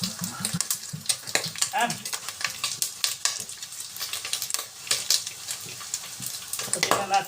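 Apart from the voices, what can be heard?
sautéing in a pan for pakbet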